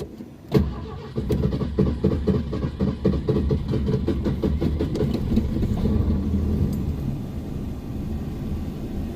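A classic car with a non-chambered muffler cranks briefly, fires up with a sharp burst, then settles into a steady, fairly quiet idle that rumbles evenly to the end.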